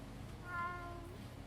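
A cat meows once in the video game Yakuza 6: The Song of Life, a single drawn-out, faint mew heard alone over a quiet background hum.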